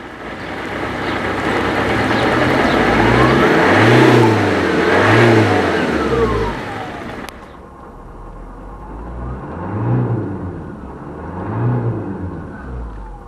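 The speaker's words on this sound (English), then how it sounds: "After 5 minutes or more, engine will warm up, the oil will become less thick and RPMs will go up." A diesel car engine fueled with sunflower oil revs up loudly and steadily, dropping to a lower, quieter idle halfway through before rising again in two further surges.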